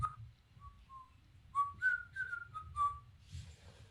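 A lone person whistles a bright, cheerful marching tune, a string of clear sustained notes close to the mic with soft room noise underneath.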